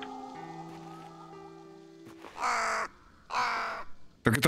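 Crow cawing in the horror video game Self-Delusion: two loud, harsh caws close by, each about half a second, following quieter tonal game ambience, with a sharp noise at the very end.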